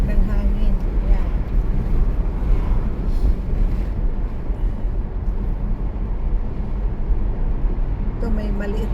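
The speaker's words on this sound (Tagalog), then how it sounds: "Naririnig ko yung tunog ng hangin." Steady loud wind rush and road rumble fill a moving car with the window open during a long-weekend drive, running continuously throughout while a voice talks over it.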